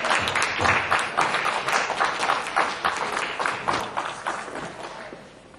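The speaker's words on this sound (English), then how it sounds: "Please make a big round of applause for JP from UK Unsigned" A crowd at a Black History Month event applauds a performer, steady dense clapping that holds for several seconds and gradually fades out, with a few voices faintly audible.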